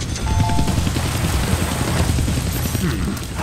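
A helicopter flying in the Deadpool video game, with a loud, continuous rotor roar and rapid low chopping filling the whole moment amid dense game noise.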